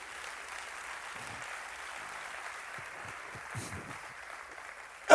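A church congregation applauding and cheering to praise the Lord, a sustained wash of clapping filling the room, rising slightly toward the end.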